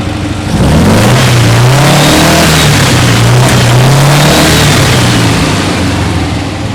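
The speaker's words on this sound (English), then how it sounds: "Revs up, no popping." An old Porsche engine fitted with 40 IDF carburetors revs up and down repeatedly, loud and close, with a steady rising and falling engine note and no popping, and no voices.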